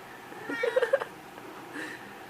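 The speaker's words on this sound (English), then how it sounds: "You looking at this kitty?" A pet cat meows indoors in a short run of several quick, close mews followed by a fainter, longer call, with quiet room sound around it.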